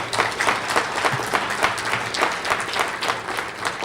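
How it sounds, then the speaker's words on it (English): An audience at a mobile government award ceremony and expo claps in a steady, dense round of applause that fills the room at even loudness from start to finish. "Can I just hear by a round of applause?"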